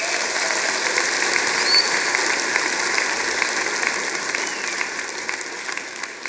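Steady, dense applause from a congregation at a church service, holding at an even level for several seconds with no voices over it and easing slightly at the end.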